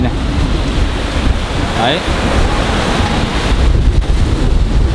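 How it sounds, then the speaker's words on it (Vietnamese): Big waves crash and surge at Mui Ne beach under strong, gusting wind that roars across the microphone, loud and continuous, with a brief spoken word over it. "Tại vì sóng to gió lớn đó các bạn ạ."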